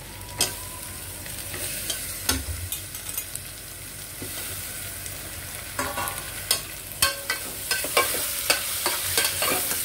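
Tomatoes being stirred and sautéed in a pan for meal maker biryani, with a steady close sizzle of frying and repeated scraping clinks of a spoon against the pan, and no talking.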